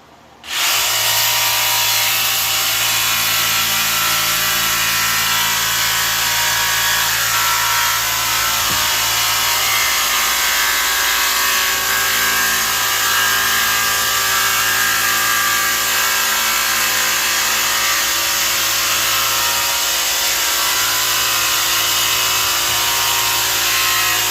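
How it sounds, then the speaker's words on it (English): A jigsaw cuts a circle in wood on a tongue-and-groove ceiling job, its loud, close, continuous buzzing rasp starting abruptly and running steadily for the whole stretch with slight shifts in pitch. "I'm going to use my jigsaw here and cut a circle."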